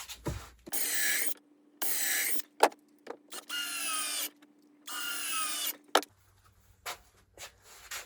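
A power drill drives 2-inch screws into a wooden cornhole board frame in about five loud, whirring bursts separated by short pauses and small clicks and knocks, with no talking.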